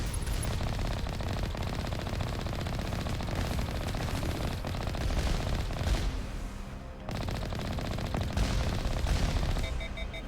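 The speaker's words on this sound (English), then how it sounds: "there's a lot of rockets coming our way" Sustained heavy gunfire and incoming rocket fire in Mass Effect, a dense continuous barrage of rapid shots and blasts, loud and close, with a brief lull near the end before the shooting resumes.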